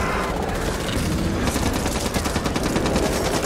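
Sustained rapid Uzi submachine-gun fire in the Back 4 Blood zombie shooter, a loud dense automatic burst running unbroken for a few seconds with no talk over it.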